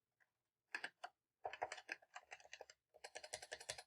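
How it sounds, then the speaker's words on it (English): Computer keyboard typed in short, close, clicky bursts with brief gaps between them, clear and alone while a recipe ingredient-adjuster program is being coded. "having trouble typing"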